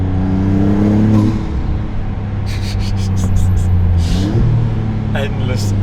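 A Maserati accelerates hard on a winding fast road, its engine note climbing steadily with a continuous loud drone beneath someone talking, with brief whooshing bursts late in the run.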